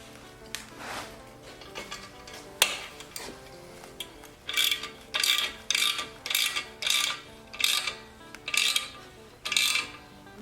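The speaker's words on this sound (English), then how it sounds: "if you got a socket wrench instead of that tool they gave you for putting the fender on" A socket wrench with a 4mm Allen head socket tightens the fender bolts on an e-bike, giving a quick series of crisp ratcheting strokes at a steady rhythm, close and clear, after some scattered metallic handling.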